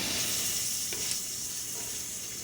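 Ground beef sizzles and fries steadily in a pan on the stove, a continuous close hiss with a few soft stirring scrapes, no voices.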